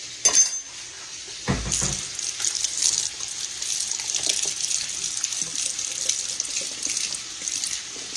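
Water runs steadily from a kitchen sink tap as a tomato is washed under it, a continuous hiss with faint splashes and a brief knock near the start.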